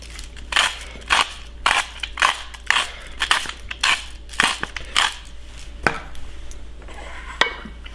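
Salt and pepper going onto arugula wilting in a pan, heard as a run of sharp rhythmic crunching grinds, probably a pepper mill, loud and close, about a dozen bursts, with no talking.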